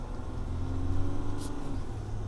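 A Jeep Gladiator EcoDiesel engine drones low and muffled from inside the cab while towing a trailer on the road, with a slight change in pitch as it shifts gears under a steady rumble.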